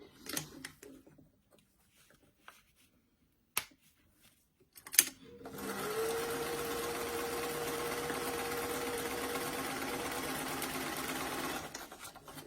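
A sewing machine runs a side seam on a doll dress, first a few brief clicks and bumps, then a steady close mechanical whir for several seconds before it stops.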